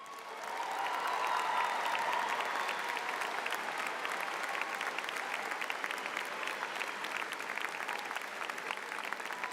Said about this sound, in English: Will the candidates for Honors Scholar please rise so that we may applaud your achievements?